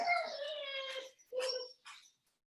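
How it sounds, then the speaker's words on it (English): A distressed pet dog whimpers indoors in a few high, drawn-out whines, the first long and wavering, followed by shorter yips and a trailing whine, fairly close and alone. "I am very sorry about my dog today."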